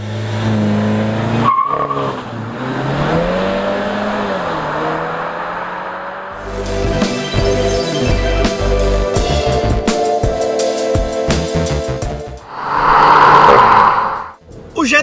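A Volkswagen Jetta GLI with a 2.0 turbo 230 hp engine accelerating hard, its engine note rising through gears with loud tire squeals and skidding, close and continuous.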